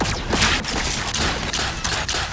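Rapid, dense gunfire in LEGO Fortnite while attacking an enemy in an expert-mode cave, loud bursts of shots running continuously without pause.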